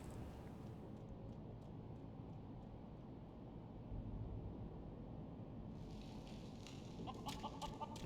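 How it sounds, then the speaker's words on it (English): A chicken in a video game clucking and squawking in short bursts over a low, steady ambient drone, the calls fairly soft at first and growing more distinct and clipped toward the end, with no speech. "Little chicken Enkidu."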